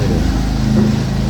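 A steady, loud engine drone hums close by, with a faint rising tone in the middle, like motorbikes running nearby in the narrow streets of Fez or Chefchaouen.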